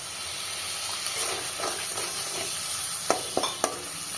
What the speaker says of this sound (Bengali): অল্প অল্প জল দিয়ে মশলাটা এবার কষাতে থাকবো।